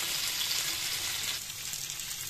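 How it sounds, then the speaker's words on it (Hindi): A spiced tempering sizzles steadily in a pan over the fried savoury snacks of a home kitchen, a continuous bright crackling hiss heard up close with no talking. "छौंका भी इसमें लग जाएगा और ये फ्राई हो जाएंगे"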